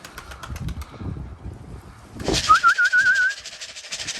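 Pigeons coo softly in a loft, then a burst of wing flapping marks them taking off together, with a whistling flutter from the wings close by.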